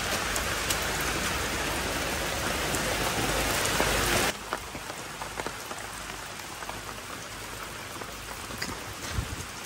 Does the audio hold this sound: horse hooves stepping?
no